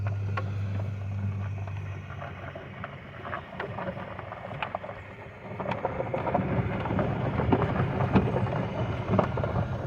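Rain from the remnants of Hurricane Milton falls with scattered sharp drips and patter over a low rumbling wash that swells louder in the second half, with no voices.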